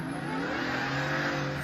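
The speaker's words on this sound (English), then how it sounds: "hearing that supercharger" A car's supercharger whines steadily alongside the engine's drone, a sustained high-pitched tone holding through the short stretch without any voices.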